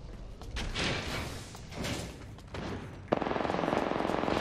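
Apex Legends gameplay fills the mix with dense bursts of gunfire, heavy muffled thumps and sliding clatter, then a fast, even rattling automatic volley near the end, loud and close with no talking.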